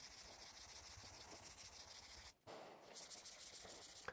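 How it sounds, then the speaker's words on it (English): Block sanding 240-grit primer on a car by hand with a DA disc, a steady close scratchy rubbing in quick strokes that drops out briefly, then resumes slightly brighter. "This is a 240 grit DA disc on a block. Keep on rubbing until we get that primer block down."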